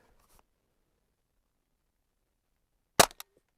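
A Crosman AK1 BB rifle set to semi-automatic fires a single sharp, close crack followed by a quick smaller rattle, after a long quiet pause and a faint handling sound at the start.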